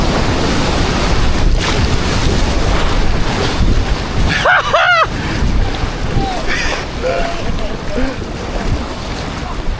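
Water splashes hard over a small boat on the Rhône river, a loud rushing wash under strong wind noise, with excited shouting from people aboard.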